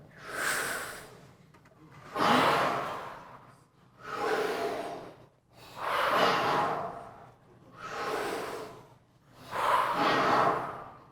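Slow, deep breaths during a group breathing exercise in an open rehearsal, six long, airy inhales and exhales in a steady, even rhythm, heard up close with no speech.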